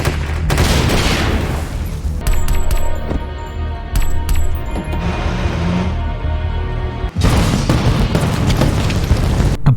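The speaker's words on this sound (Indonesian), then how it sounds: "tempat kartel itu pun meledak tak tersisa" A cartel hideout blows up in a film scene, with a loud sustained roar and rumble, crackling debris and metallic rattles, then a brief cut and a second heavy blast that carries to the end.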